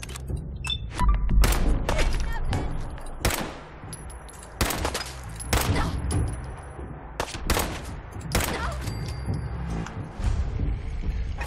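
A minigun turret in Fallout 4 fires in repeated rapid bursts, sharp rattling volleys separated by short gaps, loud and close with metallic impacts ringing between strings of shots.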